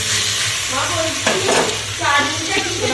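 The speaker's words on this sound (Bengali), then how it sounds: "কলা ভাজা হচ্ছে" Banana slices fry in oil in a pan in a home kitchen, with a bright continuous sizzle and hiss broken by stirring scrapes and a few clinks, and a voice faintly in the background.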